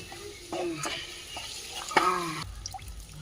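Chicken leg pieces are washed by hand in water, with close sloshing, splashing and rubbing in bursts, ending in a clear pour or rinse; no one speaks.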